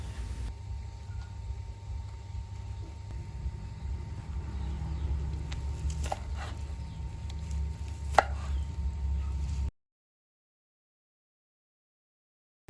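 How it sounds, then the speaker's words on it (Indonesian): A knife cuts fried tofu into small cubes on a board, with steady low background hum and a few faint knocks; no one speaks. "ini untuk tahu gorengnya ini mau aku potong-potong"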